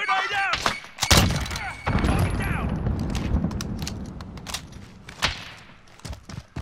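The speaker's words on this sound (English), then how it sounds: "Grenade out!" A grenade thrown and detonating in Call of Duty: Modern Warfare lands as a sharp thud and boom amid gunfire and tactical chatter, followed by a lingering rumble and scattered shots, with voices over the action.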